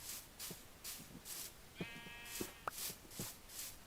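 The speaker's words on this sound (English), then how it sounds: "now I have 2 gray sheeps" Sheep in the Minecraft video game bleat once, a short wavering cry heard amid repeated soft rhythmic footsteps or block sounds at low level.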